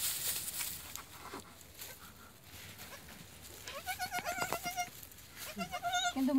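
Baby goats bleating in a series of quavering cries that grow louder toward the end, over faint background noise.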